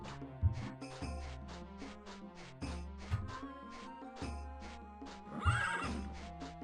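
Horse neighing in The Elder Scrolls II: Daggerfall, a repeated whinny heard several times with a game music background of rhythmic notes, fairly loud and clear.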